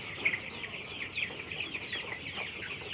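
Sonali colour bird chickens, 31 days old, cluck softly on a farm, a busy overlapping chorus of short calls at moderate distance with no talking.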